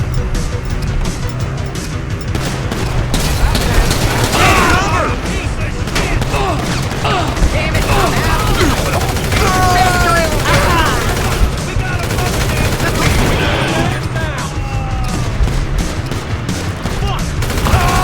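Rapid bursts of gunfire sound through a busy Grand Theft Auto V street scene, loud and dense over more than fifteen seconds, mixed with engine and crowd noise.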